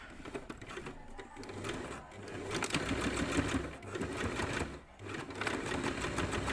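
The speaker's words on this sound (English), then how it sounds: "I'm going to do a reverse stitch up and down to join my elastic" A sewing machine runs steadily back and forth in a reverse stitch, joining overlapped ends of elastic for a shorts waistband, its close, continuous rattling hum dipping briefly at pauses.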